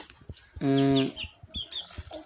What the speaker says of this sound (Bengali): এই যে দেখতেছেন আমার দেশি মুরগিগুলো বলো খাইতেছে